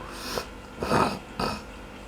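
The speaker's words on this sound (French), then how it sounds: "je renifle un peu" Three short, soft nasal sniffs in a quiet room, close to the microphone, spaced unevenly over a couple of seconds.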